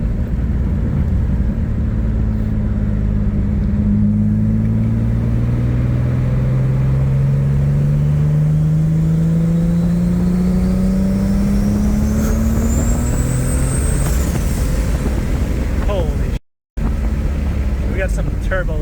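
A turbocharged Pontiac Grand Prix running a junkyard engine with a bigger turbo accelerates hard, the engine note climbing steadily in pitch over several seconds, with a rising turbo whistle and rumbling road noise inside the cabin.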